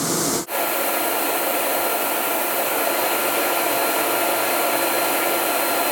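Steady, loud air blower in a Versa Spa spray tanning booth, a continuous broadband whoosh that starts abruptly after a brief gap and holds evenly throughout with no voices.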